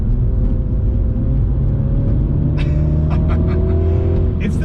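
A MINI JCW DT Edition hatchback taken hard through a corner, its engine droning loud and steady with a rising tone and faint tyre or exhaust crackles near the end.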